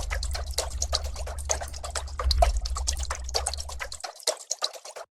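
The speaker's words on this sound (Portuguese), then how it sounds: "Você tem uma percussão com o som da água que a gente tinha aqui embaixo." Dripping and splashing water is chopped into rapid, stuttering glitch percussion over a steady low bass hum in a minimal tech production, with a dense rhythmic pattern that thins into a few scattered drops after the bass cuts out.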